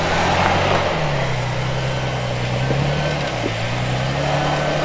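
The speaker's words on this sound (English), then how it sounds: "We'll just hook a winch to that tree and pull us up out of here." A truck stuck in mud is pulled free by a winch rope anchored to a tree, its engine and winch motor droning steadily with small shifts in pitch as it strains, close and continuous.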